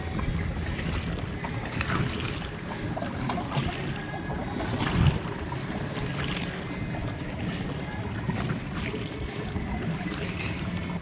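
A strong river current near Pagsanjan Falls, Laguna, rushes in a continuous broadband roar around a boat, with wind buffeting the microphone and faint voices now and then.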